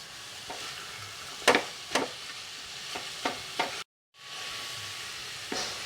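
Khoa being stirred in a hot pan with a wooden spoon, giving soft scraping strokes over a steady low sizzle, with a brief drop to silence partway through.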